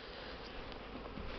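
Honeybees buzzing around hives at a winter apiery on a warm December day, a steady diffuse hum of many insects with faint individual passes, no talk.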